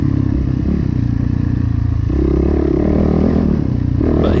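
A backup dirt bike roars steadily around a motocross track at Mountain Top, its engine loud and close with rough clattering revs that surge near the end.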